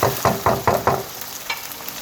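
Ginger garlic paste hits hot oil with onions in a pan, giving five sharp bursts of sizzling in quick rhythm as it is stirred, followed by a quieter steady frying hiss.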